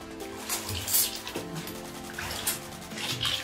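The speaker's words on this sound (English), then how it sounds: "he's splashing, Bella" A dog splashes in a filling bath with colour-changing bubble bath: water sloshes and splashes with soft irregular splashes and a running-water hiss throughout.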